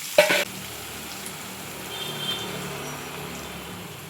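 Tomatoes fry in a pan for egg bhurji, and beaten egg is added. A sharp sizzle and clatter burst in at the start, then a soft, steady sizzle continues, quiet and alone.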